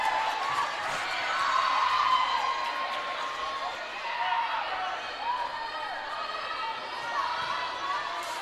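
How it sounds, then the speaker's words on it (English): Crowd at a high school volleyball game, Roseburg at North Medford, roaring and cheering steadily in a gym, loud and sustained with whoops and shrill tones rising over the din, a commentator talking over it. "I don't know if you guys can hear this at home, but this crowd is loud."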